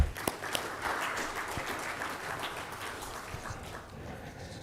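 Applause rises in a hotel event hall for the attendees of a corporate gathering, heard as a moderate, distant patter of clapping that fades slightly toward the end.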